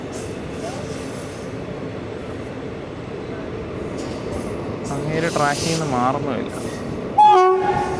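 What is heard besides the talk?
train horn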